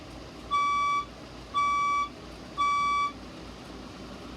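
Three steady electronic tones from a fire alarm speaker during a strobe test, each lasting about half a second with short even gaps, ringing clearly over a quiet background.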